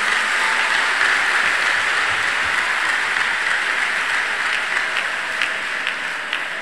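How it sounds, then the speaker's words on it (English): Applause in a church service, dense and sustained clapping from a large congregation, steady throughout and gradually thinning toward the end. "A big clap offering to Jesus."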